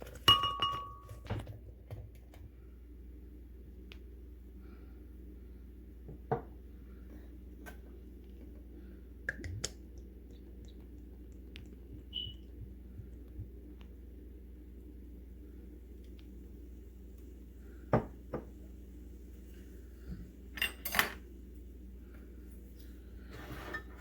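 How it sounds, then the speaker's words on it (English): Ingredients for a Jamaican-style Guinness punch go into a blender, with scattered glass clinks and dull thunks over a low steady hum in a quiet kitchen. "I'm basically going to put everything into my blender."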